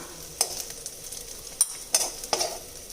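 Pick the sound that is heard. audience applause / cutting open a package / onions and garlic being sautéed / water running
onions and garlic being sautéed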